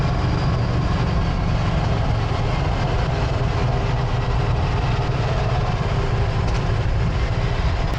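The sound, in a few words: Ducati Scrambler 800 L-twin motorcycle engine riding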